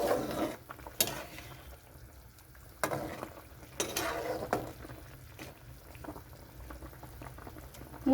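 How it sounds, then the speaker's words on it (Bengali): A fish head bubbles and simmers in a curry with potato and green banana, a steady close boiling burble with occasional louder stirring clatters from the pot. "মুড়োটা একটু ফুটাতে লাগে"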